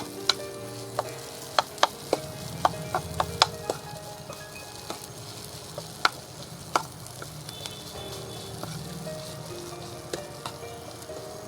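Bombay chilli fritter mixture with raw cumin and chilli powder being fried and stirred in a pan: a soft steady sizzle punctuated by scattered sharp metallic clinks of a spoon against the pan.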